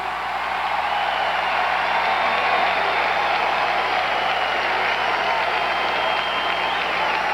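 A huge arena crowd at the 1988 Democratic National Convention roars with sustained applause and cheering for a nomination by acclamation, a dense, unbroken wall of clapping and shouts heard from within the hall.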